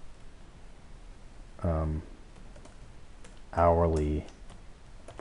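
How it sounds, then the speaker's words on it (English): Soft clicking and tapping on a computer keyboard while entering data into an Excel spreadsheet, faint under two short bursts of someone talking. "I type that into cell B11"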